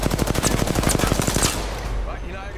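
Rapid automatic gunfire bursts out in Apex Legends, a loud, close string of about a dozen evenly spaced shots over the first second and a half, then fading into a quieter tail of in-game ambience.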